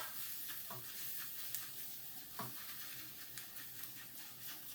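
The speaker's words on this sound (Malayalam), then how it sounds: "ഇനി ഇതെല്ലാം കൂടെ ഒന്ന് എണ്ണ തെളിയുന്ന വരെ നമുക്കൊന്ന് മൂപ്പിച്ചെടുക്കാം" Chilli and coriander powder fry in oil in a pan while a silicone spoon stirs, giving a faint, even sizzle with occasional soft scraping strokes.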